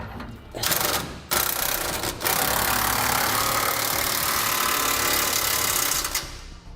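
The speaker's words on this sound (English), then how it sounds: "we'll tighten our bolts down now" A power tool tightens the bolts of a fifth wheel hitch in the bed of a 2017 Ram 3500. The close, loud, steady whirring runs in two short bursts and then one long continuous run.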